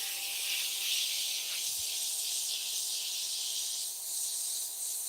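An airbrush sprays at low pressure, giving a steady soft hiss of air that runs unbroken and fairly quiet, with no one speaking.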